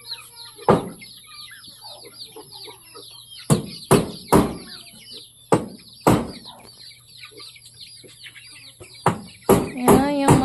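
Chickens cluck and squawk in scattered sharp bursts over a steady background hum, with a rapid cluster of calls near the end.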